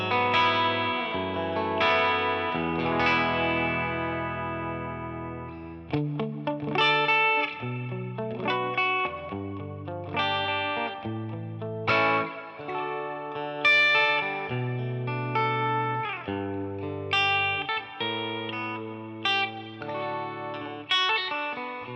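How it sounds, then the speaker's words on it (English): A relic Fender Stratocaster on its bridge pickup, driven through a Tube Screamer overdrive, plays a series of distorted chords and single-note phrases with ringing sustain, loud and close and with no voices over it. "So I've just piled on a tube screamer"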